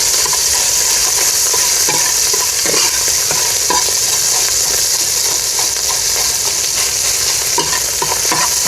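Ground dried chili paste stir-fries in oil for Khmer braised beef with a loud, continuous sizzle and hiss. Scraping strokes from a spatula are scattered through it, close and steady throughout.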